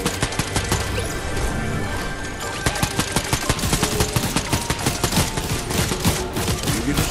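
Rapid bursts of automatic gunfire and single shots ring out in a Fortnite match, loud and dense with a steady stuttering rhythm throughout.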